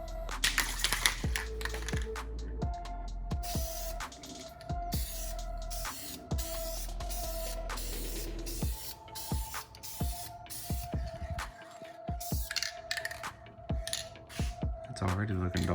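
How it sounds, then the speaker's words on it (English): VHT Nite-Shades tint sprays from an aerosol can onto car tail lights in repeated hissing passes. Sharp clicks and rattles of the can are mixed in, and the sound stays close and steady throughout. "So let's get to spraying."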